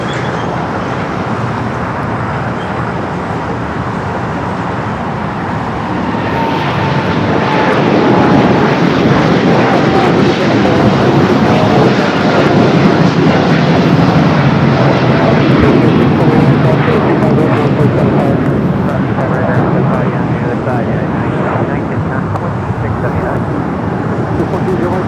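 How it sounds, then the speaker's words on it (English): A United Dreamliner takes off down runway 25 right at Los Angeles airport, a loud broad jet roar that swells midway and holds steady, heard from a park beside the field with a voice talking over it. "the United Dreamliner now rocking and rolling down the 25 right"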